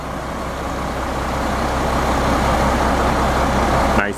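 A JD's Pumping concrete pump truck drones on at a wet, rainy footing pour, its steady heavy engine rumble near and loud, with a brief sharp knock right at the end.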